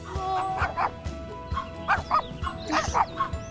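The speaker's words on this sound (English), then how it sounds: "Dogs." Dogs bark and yip close by in a lively run of short barks, with some whimpering and whining mixed in, loud and repeated throughout.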